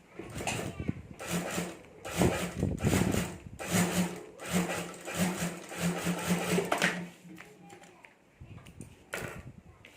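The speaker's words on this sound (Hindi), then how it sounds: "तो यहाँ भी मैं सिलाई कर देता हूँ" Sewing machine stitching fabric for a clutch bag, bursts of rapid mechanical whirring and needle chatter nearby, with someone talking between and over the runs.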